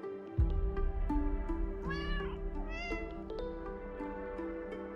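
Cartoon cat meows from the hidden-object video game Hidden Cats sound clearly, two or three short meows over a calm, sustained musical background.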